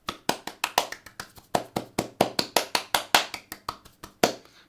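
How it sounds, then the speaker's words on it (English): Hand claps made with differently shaped hands, a rapid series of about twenty-five sharp close claps in an uneven rhythm, each with a slightly different tone, no speech. "That could just be the sound of my clapping"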